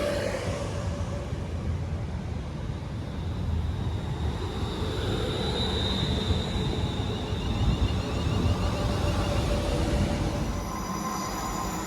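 A Class 350 electric multiple unit rolls through Watford Junction with a steady, loud rumble of wheels on rail, a faint squeal rising midway, continuous and close throughout.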